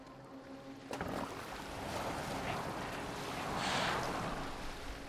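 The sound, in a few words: boat being rowed on water in Assassin's Creed Valhalla video game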